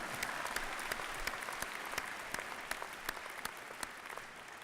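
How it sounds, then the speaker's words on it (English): Applause from a graduation ceremony audience at a university, steady and fairly faint, with dense overlapping claps running evenly throughout and no break. "that's worth applause."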